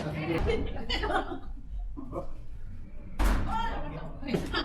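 Firefighters kicking a door open, with a loud slam-thud landing mid-clip among heavier knocks, while several people talk and laugh close by throughout.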